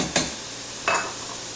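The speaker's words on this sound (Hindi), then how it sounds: "अच्छे से इसको फ्राई कर लेंगे। कलर थोड़ा सा चेंज करेंगे प्याज का, चमचा चलाते जाएं।" Chopped onions frying in about a cup of oil in a pan while a spoon stirs them; a steady hiss is broken by two short, close scraping sweeps.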